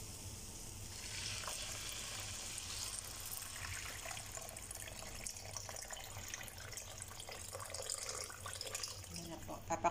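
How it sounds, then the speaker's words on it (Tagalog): Water pours steadily into a pot of lentil soup with vegetables, a continuous hissing, splashing rush heard close and moderately loud, with no voices. "lalagyan ko siya ng tubig"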